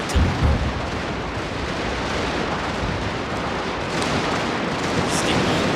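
Artillery fire in Fall of the Samurai, a Total War mod, rumbles as a dense, continuous battlefield roar with an early heavy boom, sustained distant cannon thuds and crackle throughout.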